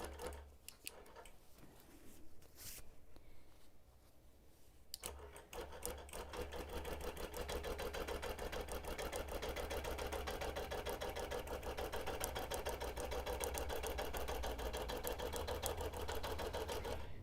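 A sewing machine runs a quarter-inch basting stitch freehand across the top of a wholecloth baby quilt, a fast steady mechanical whir and needle patter that starts hesitantly, then runs continuously and close, with no talking.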